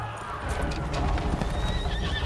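Riderless horses in the video game The Witcher 3: Blood and Wine whinny, their hooves clattering in a steady rush amid a busy outdoor scene, with a high neigh rising briefly near the end.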